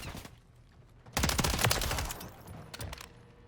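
Ray gun shots in a Call of Duty game: after a quieter opening, a dense, loud burst of rapid shots lasts nearly a second, then fades into scattered follow-up shots.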